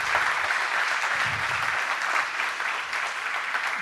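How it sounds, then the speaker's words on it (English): A conference audience at Impact 2018 applauds after a talk on connecting code to strategy, a fairly faint, even wash of many hands clapping throughout, with no voices over it. "Round of applause, please."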